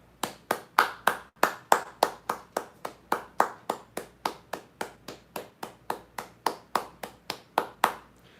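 Steady, evenly paced clapping, about three claps per second, close and crisp, continuing without pause and with no voices.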